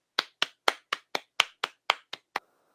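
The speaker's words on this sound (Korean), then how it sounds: "큰 박수로 환영 부탁드리겠습니다" Ten sharp, evenly spaced hand claps at a sports industry jobs conference in Korea, fairly loud and close, like one or a few people clapping to welcome a speaker, ending in near silence.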